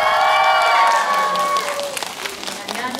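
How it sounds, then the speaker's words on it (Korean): Audience applause in a packed cinema during a film stage greeting, dense clapping that starts loud over a speaking voice and thins out toward the end. "박수."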